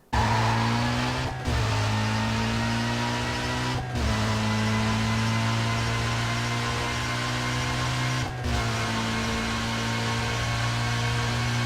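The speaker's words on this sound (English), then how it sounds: "We all remember the crazy whine of the M3 GTR from Need for Speed Most Wanted." A BMW M3 GTR race car with a straight-cut gear transmission, as from Need for Speed Most Wanted, holds a steady loud whine over engine drone, broken by three brief shift-like cuts, with no talk.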